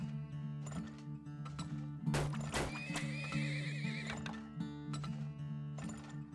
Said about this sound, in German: Ich habe viel zu viele Pferde, ne?